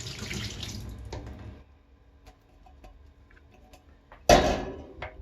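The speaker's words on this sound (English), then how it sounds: "Just a quick rinse like that" Tap water pouring over tinned potatoes in a strainer at a kitchen sink, a steady close splash at first, a quiet pause with small drips and clicks, then a loud sudden gush of running water.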